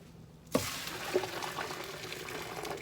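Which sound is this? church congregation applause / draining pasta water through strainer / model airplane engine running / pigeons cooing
draining pasta water through strainer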